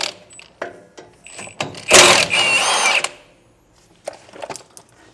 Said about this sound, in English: We're just going to pop those off with a 9/16 socket.